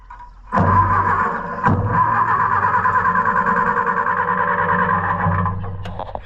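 An Allis Chalmers WD tractor engine runs with a harsh, steady drone for several seconds, then falls away and dies as it stalls, with a clank at the start.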